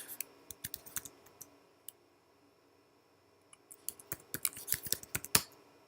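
Soft, close keystrokes tap on a computer keyboard as a password is typed, a few scattered clicks at first, then a quicker run of keypresses after a short pause.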